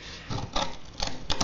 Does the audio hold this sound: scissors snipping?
yes